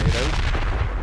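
A grenade goes off in a video game with a heavy, booming low rumble that fills the whole moment, close and loud.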